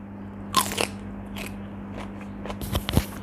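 Close, crisp crunches of a fresh cucumber being bitten and chewed, several sharp crackling bites spread over a quiet background with a faint steady hum.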